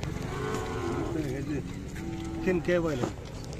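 A 14-month-old Khillar heifer moos repeatedly at a busy cattle market, loud and close, long drawn-out lowing calls rising and falling while people talk nearby.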